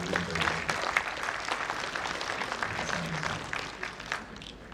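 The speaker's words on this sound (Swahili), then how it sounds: "Makofi mengi kwa presenters wetu" Applause for presenters at an annual lawyers' conference, a continuous patter of many hands clapping in a hall, fairly loud and sustained, fading slightly toward the end.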